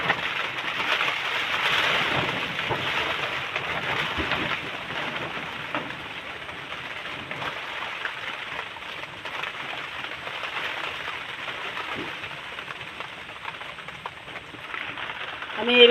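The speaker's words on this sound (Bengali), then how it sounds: "আমি এখানে কিন্তু ডোবা তেলে ভাজবো না, আজকে অল্প তেল দিয়ে ভাজছি।" Thin slices of potato fritter made with lentils shallow-fry in a little oil, giving a steady, moderately loud sizzle and crackle that fades slightly partway through.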